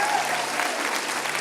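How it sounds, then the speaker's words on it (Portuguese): A church congregation applauds its children's ministry leaders with dense, loud clapping that fills the room throughout the brief moment. "Eu queria que você desse uma salva de palmas para esses líderes"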